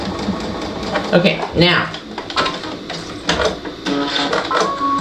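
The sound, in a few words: sewing machine sewing fabric together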